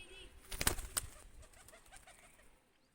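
Domestic pigeons at a rooftop loft: a brief burst of fluttering and rustling, then a few soft, low coos, faint and close.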